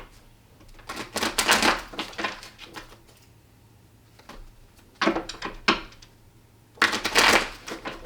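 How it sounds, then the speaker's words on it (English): Tarot cards being shuffled by hand in quick papery bursts, three separate flurries of riffling and flicking separated by quiet pauses, close and alone. "I'm gonna go ahead and shuffle a few more and let some more flip here"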